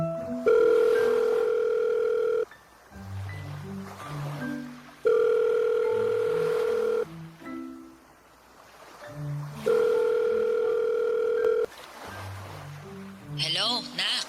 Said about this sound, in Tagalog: Ay, kunin ko lang yung cellphone ko. Tawagan ko siya.